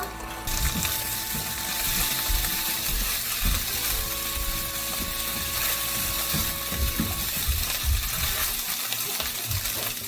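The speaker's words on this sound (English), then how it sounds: "I'm going to beat the eggs and then I'll fry it" Beaten eggs frying in a pan give a loud, steady sizzle and crackle throughout, with faint scraping underneath and no talking.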